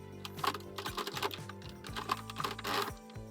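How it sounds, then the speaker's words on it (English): A hand-cranked knitting machine working a short run of stitches: quick, regular mechanical clicks and clacks with rhythmic carriage rattles and low thumps, steady and close. "I'm going to slowly start cranking and then knit for 10 stitches"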